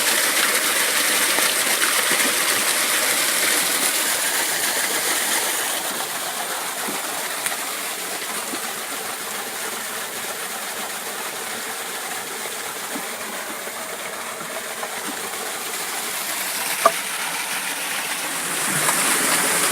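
After a day of heavy rain, water rushes steadily over a beaver dam waterwheel, a constant broadband flowing roar with occasional faint clicks.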